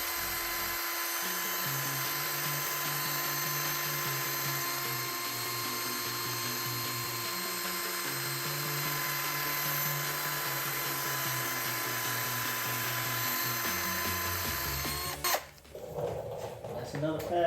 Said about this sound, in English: I'm just letting the pad and the drill do what it does,